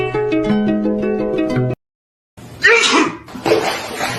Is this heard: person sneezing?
yes